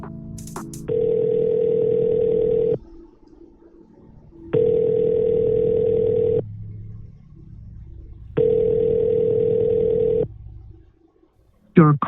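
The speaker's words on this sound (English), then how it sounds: "I dial him." A phone call rings out as a dialled line: three long, loud, even ringback tones separated by gaps of silence, followed by a short burst of other sound at the end.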